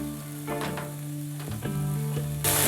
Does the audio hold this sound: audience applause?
no